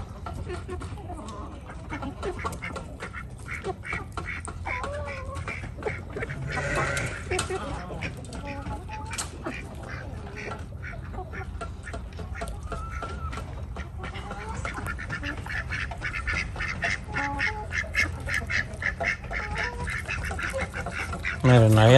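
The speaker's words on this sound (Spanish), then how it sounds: "Miren allá los patos cómo andan allá metiendo el pico" Ducks quacking and honking steadily by a fence near their nests, poking their bills along the fence edge, a busy mix of calls at moderate distance with someone talking over them throughout.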